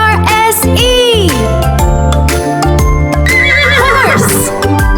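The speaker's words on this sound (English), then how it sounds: "The horse says neigh. Neigh, neigh." A cartoon horse neighs and whinnies loudly over a bright children's phonics song, with a rising then falling whinny near the start and another toward the end, set against steady music and light jingling.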